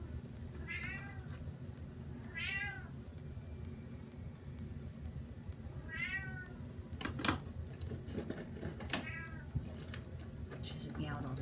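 A pet cat meows indoors, several separate drawn-out cries spaced a couple of seconds apart, close and clear, with some low background rumble and a brief clatter.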